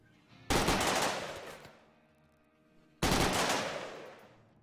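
Two sharp bursts of automatic gunfire from colonists fighting in RimWorld, each striking loud and close, then rattling and decaying over about a second, spaced roughly two and a half seconds apart with a quiet gap between.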